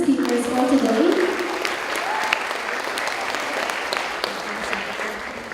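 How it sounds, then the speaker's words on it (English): Sustained audience applause fills a conference hall after youth speakers at a marine environmental protection event, a dense, steady clapping that starts loud over a brief voice and slowly tapers. "please give one more applause to our youth speakers for today."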